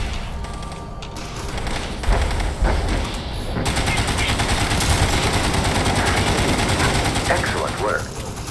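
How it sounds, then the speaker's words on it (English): Dense, continuous gunfire in the video game Fallout 76, rapid bursts and thuds aimed at an enemy commander, loud and sustained over a busy battle background with scattered booms. "Focus your fire on the commander."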